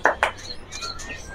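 Two short bright calls from a magpie robin ring out near the start, followed by softer thin whistles and chatter over a faint background.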